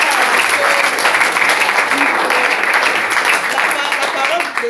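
Sustained applause from a church congregation fills the space, dense and loud throughout, with voices mixed in beneath the clapping.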